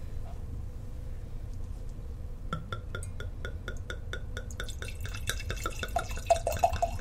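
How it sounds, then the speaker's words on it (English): A drink is poured heavily from a bottle into a glass, making a quick run of trickling, dripping clinks that thicken into a close, steady splash. There is no speech, and a low background rumble runs underneath. "Nice heavy pour. That is a heavy pour."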